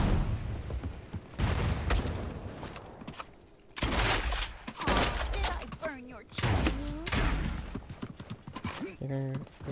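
Gunfire and clattering action in the battle royale video game Realm Royale, with loud bursts and shots mixed among hoofbeat-like thuds and game effects, while players talk excitedly over the noise.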